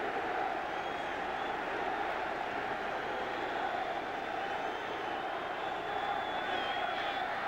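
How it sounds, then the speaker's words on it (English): Football stadium crowd at a Kansas City Chiefs versus New York Giants preseason game, a dense, steady roar of many voices chanting for defense, sustained throughout under faint commentary. "And a chant of defense up from the crowd."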